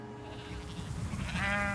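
Sheep bleating at an agricultural research farm used for organic farming studies, with several overlapping calls rising over a steady background, moderately close and clear.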